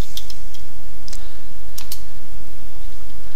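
Someone types a password on a computer keyboard while disk-imaging an mSATA drive, giving a few quick bursts of clicky keystrokes over steady hum, close and distinct with no talking.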